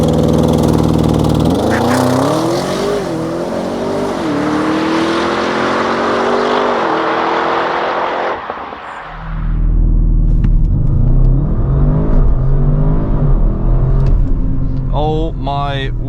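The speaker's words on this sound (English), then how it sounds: "Let's kick it off with 0 to 100 on the country road." An Audi RS6 Performance with 630 hp launches from 0 to 100 km/h on a damp country road. The engine roars as it climbs in pitch through the gears, with a brief dip at a shift before it surges again. Voices are heard over it.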